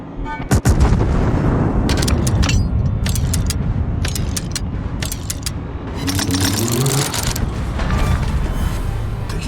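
The Japanese battleship Satsuma's main guns firing in World of Warships, a series of heavy booming blasts with sharp cracks and rumbling echoes, one big salvo early and another volley later.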